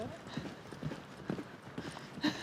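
Horse hooves clip-clopping during horseboarding, a series of soft, fairly distant hoof beats over low outdoor background noise.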